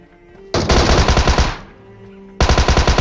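Loud, close automatic gunfire from an online shooter game rattles out in two rapid bursts separated by a brief lull.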